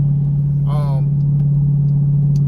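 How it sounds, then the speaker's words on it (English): A car engine with a lifter tick idles steadily with a low drone and faint rapid ticking, close up; a brief voice-like sound rises over it early on. "So that's what it sounded like. It sounded like I had a lifter issue."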